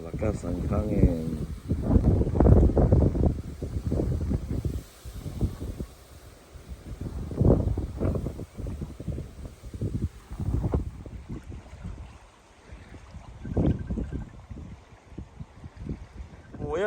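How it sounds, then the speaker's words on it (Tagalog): Gusty wind roars and buffets the microphone in uneven surges, loud and rumbling, with moving water faintly beneath it, during bird migration. "malakas ang hangin."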